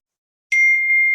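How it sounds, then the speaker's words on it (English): A phone gives a single clear electronic ding that holds as a steady sustained tone, sounding alone after a moment of silence. "Oh my God, that's my phone."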